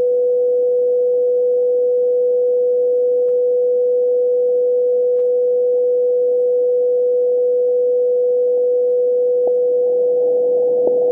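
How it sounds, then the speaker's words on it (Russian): Steady pure test tone from a signal generator, injected as an interfering signal into a radio receiver during a dynamic range measurement; one unbroken, constant-level whistle that runs the whole time, alone and fairly loud, over a soft hiss. "Включаю мешающий сигнал"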